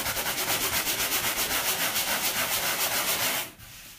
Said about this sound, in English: take the corner of the sanding spudge and sand a little more around the edges to sort of get into these indentations